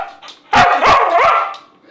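A dog at a snow goose hunt lets out several sharp, loud barks close by, with short yips in between, over quiet outdoor background.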